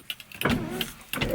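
A Volkswagen Beetle's electric power window motor gives a short close whir with clicks at its start and finish, brief and moderately loud.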